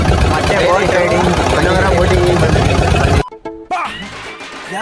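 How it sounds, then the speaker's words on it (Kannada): A boat engine drones steadily during a passenger boat ride from a beach, a loud, continuous rumble mixed with wind and water noise that cuts off abruptly near the end, with voices talking over it. "ಇವಾಗ ಬೀಚಿಂದ ಮತ್ತೆ ಬೋಟ್ ರೈಡಿಂಗ್"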